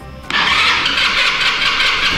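A flooded Italika TRN-150 motorcycle that had no spark catches and starts, its small engine jumping abruptly from quiet to a loud, close, steady idle that keeps running to the end.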